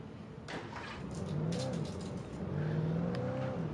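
In the video game Alan Wake Remastered, a car engine starts and revs up, a steady rising drone that swells as the car accelerates away, heard alone at moderate loudness.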